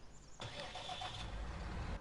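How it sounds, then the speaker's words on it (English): Tractor engines of roughly 240 to 250 hp, Massey, Fendt, CLAAS and Valtra, starting up on a farm in a farming game: a sudden crank and catch, then a steady close rumble with faint rhythmic pulsing. "So first thing I would do is start the engines"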